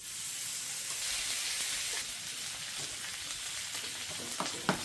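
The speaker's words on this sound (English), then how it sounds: "I've added a little bit of oil to my Blackstone, and now I'm just gonna start adding the meat." Al pastor pork carved from a trompo hits an oiled Blackstone griddle, producing a loud, broad hiss that holds steady and then gives way to a few scraping knocks near the end.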